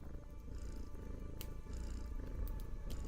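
In a video game, a cat purrs while being petted, a soft rhythmic low rumble in repeated breathing cycles, close but quiet, with occasional faint higher chirps, and no voices.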